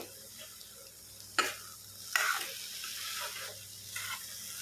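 Pitha frying in a covered pan on a low gas flame, a soft, quiet sizzle with a low steady hum, interrupted by a couple of brief louder scrapes or lid clatters.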